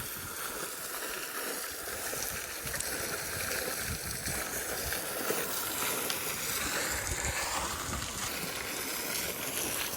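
A garden water fountain in Korea, with water draining down through a hole, flows in a steady, moderately faint wash of splashing and trickling.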